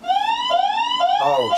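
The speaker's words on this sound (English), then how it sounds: "That's the fire alarm." A fire alarm goes off indoors during a music session, a loud electronic siren tone that sweeps upward in repeated pulses about every half second, close and alone.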